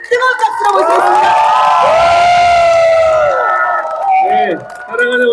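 A crowd at a Democratic Party campaign rally outside Busan Station cheers and shouts loudly to welcome lawmaker Kim Yong-min, with whoops and a lot of voices over a steady roar.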